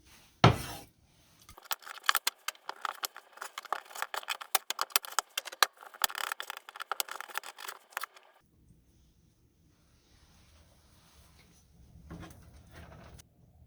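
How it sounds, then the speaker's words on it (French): A small knife works meat off beef shank bones for French onion soup. Quick, light scraping and clicking strokes of the blade against bone run in an irregular string for several seconds, then fall to near silence. "à l'aide d'un tout petit couteau, on va séparer la viande"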